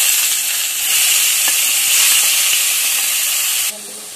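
Onions sizzling and frying in hot oil in a pan for Kerala-style chicken thoran, a loud steady hiss close up that cuts down sharply near the end.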